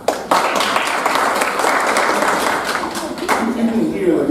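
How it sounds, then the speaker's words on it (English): An audience applauds speakers with a steady wash of clapping that lasts several seconds at moderate loudness. A speaking voice sits under it. "give you guys a round of applause."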